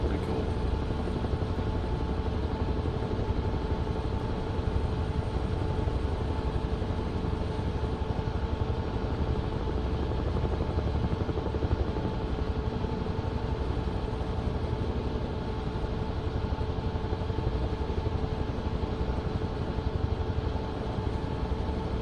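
Chinook helicopter in Microsoft Flight Simulator 2024, a steady rotor and engine drone that holds at an even level throughout, with no other sounds breaking in.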